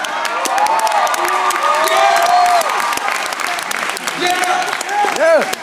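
A teen audience at a Diocese of Fresno youth event claps and cheers loudly, with whoops and high shouted voices riding over sustained dense applause that swells again near the end.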